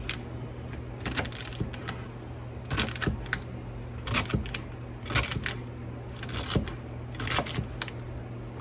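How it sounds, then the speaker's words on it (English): Celery stalks, leaves included, chopped finely with a knife on a board, giving quick irregular clusters of close, crisp taps over a faint steady hum, with no speech. "Okay, I'm just cutting up the celery."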